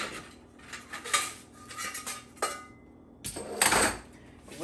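Rusted stove drip pans clatter and clink as they are handled and swapped out, giving scattered metallic knocks and scrapes at close range with no talking.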